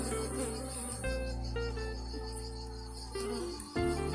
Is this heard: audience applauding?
no